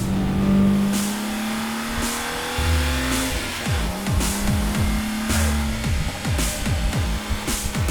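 A Lotus Elise and a Roding Roadster sports car drive mountain pass roads, engines revving hard and rising through repeated gear changes, loud and close, with a short tire squeal and one car sweeping past.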